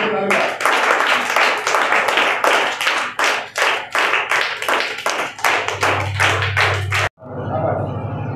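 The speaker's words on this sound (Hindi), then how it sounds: "और सारे बच्चे ताली बजाओ।" Schoolchildren in a classroom clap their hands together in loud, rhythmic, roughly unison bursts, about a dozen distinct claps at a steady pace, then a short pause and a faint hum with brief murmuring.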